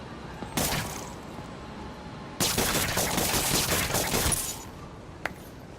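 Gunfire crackles in Marvel's Spider-Man video game: a short burst of rapid shots, then a longer sustained volley lasting nearly two seconds, and one final sharp crack, all loud and close.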